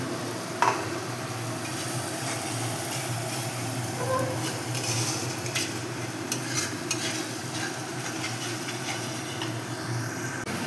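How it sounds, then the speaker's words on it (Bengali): Spice masala for a soybean curry frying and being stirred in a pan: a steady, dense sizzle running throughout, with occasional scrapes and knocks of the spoon, close and moderately loud, with no talking. "মশলাটা এভাবে কষে দেবো।"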